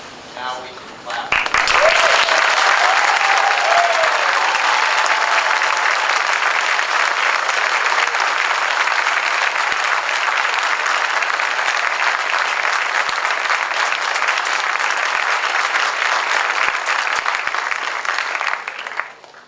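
A graduation audience at a mathematics ceremony bursts into sustained applause after a long list of names is read, a dense, loud, even roar of clapping that holds steady for many seconds before tapering off at the end.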